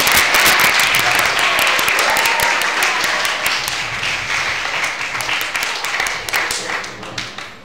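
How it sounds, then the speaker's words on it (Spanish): Audience applause for guests at a sensory diversity event, a dense, steady wash of many hands clapping that stays loud and then thins slightly toward the end, with a faint voice underneath. "un fort aplaudiment per tots els nostres convidats"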